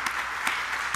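A church congregation at a Pentecost worship service applauds the camp volunteers, a dense, steady burst of clapping from many hands filling the room.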